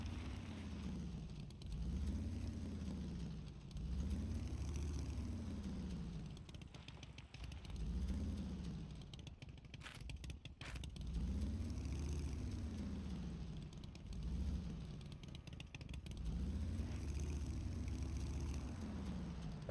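A pickup truck engine in a video game, a steady mid-pitched drone that rises and falls in slow, repeating swells as the truck drives, with a brief crackle partway through.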